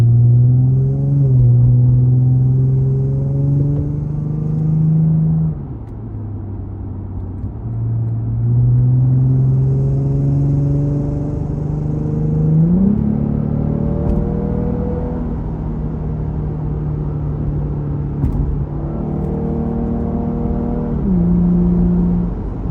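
Lexus IS300 with an axle-back exhaust, heard from inside the cabin while driving: a steady, droning engine and exhaust note rises through the gears, dropping in pitch at each shift, loud and continuous with no talking.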